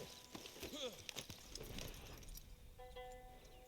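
Horse hooves clip-clop in a video game, a short run of light irregular hoof thuds at moderate level, followed by faint chiming game tones.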